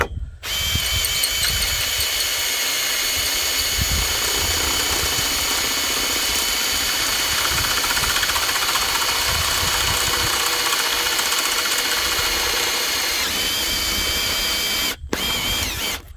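A power drill with a dull bit bores into a pipe, running continuously at high speed for many seconds, a loud whining grind with rattling undertones, stopping briefly near the end.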